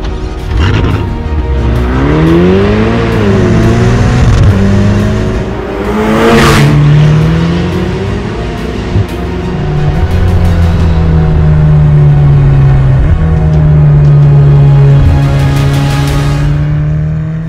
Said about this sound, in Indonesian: Ferrari Portofino menawarkan sensasi berkendara khas keluarga GT-nya Ferrari yang terasa nyaman saat berkendara normal tentunya.